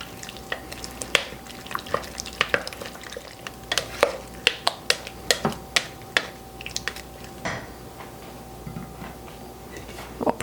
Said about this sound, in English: So now let's stir all of these ingredients together.